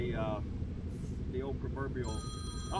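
A mobile phone rings with a repeating electronic ringtone under ongoing close conversation, people talking loudly over the tones throughout.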